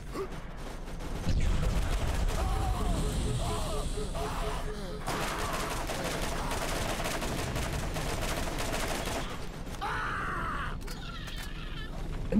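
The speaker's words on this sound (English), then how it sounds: "Maybe there's a fucking sniper there." Gunfire in the video game Borderlands, a dense stream of shots and bursts at moderate loudness, mixed with game effects and some talking.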